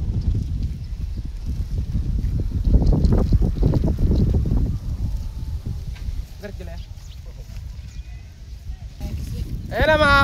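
Strong wind roars across an open outdoor spot during kite flying, a loud, steady low rumble buffeting the microphone throughout, easing slightly midway before gusting again at the end.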